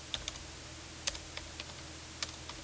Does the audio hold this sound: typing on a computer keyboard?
yes